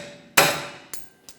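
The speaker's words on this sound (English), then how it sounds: "For that, I'm just going to use a hammer. We'll give it a bonk, drive it out." A hammer strikes a wheel stud to drive it out of a rear wheel bearing hub on a 2014-2019 Toyota Corolla: one sharp, loud metallic bang followed by two lighter, quicker taps, each ringing briefly.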